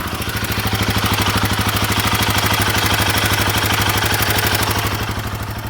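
A Royal Enfield Himalayan 452 motorcycle engine with a worn tappet head runs at idle close by, a loud, steady, rapid thumping clatter with no talk over it.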